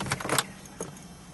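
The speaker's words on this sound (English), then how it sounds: "when I put the key in the ignition" A car key slides into the ignition with a couple of quick metallic clicks and a faint jingle, close and quiet inside a car.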